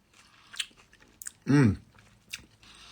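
Someone takes a bite of fresh tabbouleh with parsley and tomatoes, a few soft crunchy chews around a short voiced sound, close and intimate.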